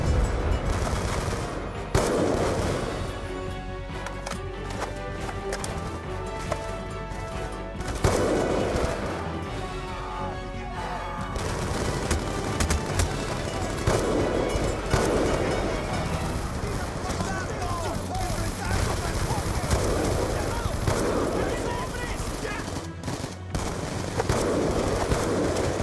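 Gunfire in the Call of Duty Black Ops II campaign during a hillside push on enemies in buildings, dense and continuous with sustained automatic bursts, while shouted voices and battle noise run throughout.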